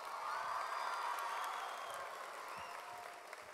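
Audience applause with some cheering at a premiere event in Orlando, a steady wash of clapping heard at a moderate distance, fairly quiet throughout.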